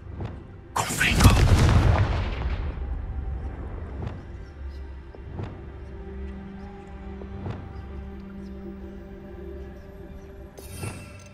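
In Hogwarts Legacy, a Confringo spell sets off one loud, booming explosion. Its rumble fades over a few seconds, and scattered game sounds follow.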